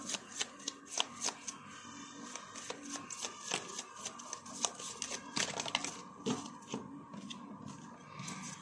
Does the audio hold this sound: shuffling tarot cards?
yes